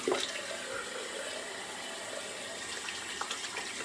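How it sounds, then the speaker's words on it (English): A tap runs steadily for a quick rinse during an old-fashioned wet shave with Williams soap, water splashing into a sink in an even, continuous hiss close by, with no voice. "Do a quick rinse off"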